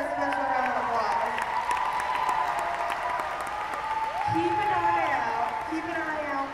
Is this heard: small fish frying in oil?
no